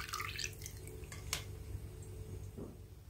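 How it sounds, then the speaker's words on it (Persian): Whey from homemade kashk strains through a cloth bag held in a colander, giving faint, sparse drips and small wet taps at irregular intervals against a quiet room background. "به این صورت داخل آبکش نگهداری می کنم تا آب کشک از کیسه رد بشه."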